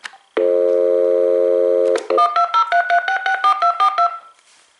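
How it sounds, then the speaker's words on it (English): A steady dial tone on an AT&T SynJ SB67118 desk phone cuts off, followed by a quick run of about a dozen touch-tone beeps redialing a number in even rhythm. "now let's go ahead and redial the number again."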